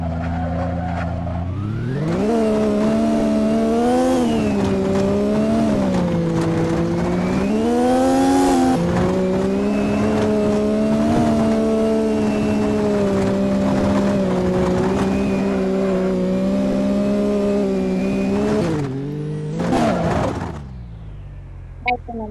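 Racing car engine in a car video game, a loud sustained rev with shifting pitch that climbs and dips through gear changes, steady for most of the stretch before cutting out near the end.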